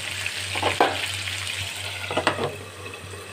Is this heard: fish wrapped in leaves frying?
yes